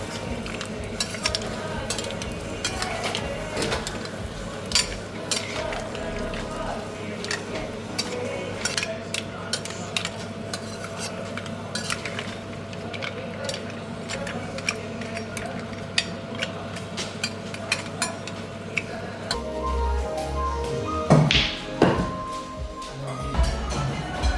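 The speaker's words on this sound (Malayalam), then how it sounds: "എന്നിട്ട് അതിനെ നല്ലതുപോലെ മിക്സ് ചെയ്യും." Seafood being stirred in a pan, with steady clinks and scrapes of a utensil against metal over a low sizzle, and a busier clatter of stirring near the end.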